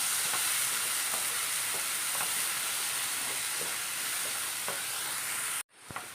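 Curry masala for a green peas curry sautés in a pan with a steady frying hiss, soft regular stirring scrapes, then a sudden cut followed by a brief clatter.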